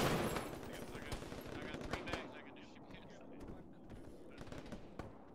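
Rapid gunfire rings out from a window in the Arma video game, with several loud bursts of shots early on that thin into scattered single cracks. Quiet voices talk underneath.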